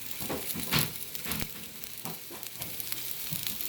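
Brussels sprouts fry in hot oil alongside smoked turkey sausage, giving a steady, close sizzle and crackle with a few louder bumps from stirring in the pan.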